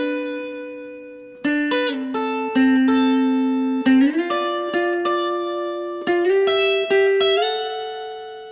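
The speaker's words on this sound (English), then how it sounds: "The intro starts off with these sixths intervals, and it sounds like this." Electric guitar playing a song intro in sixths intervals, clear sustained two-note plucks moving in steps over several bars, alone and fairly loud.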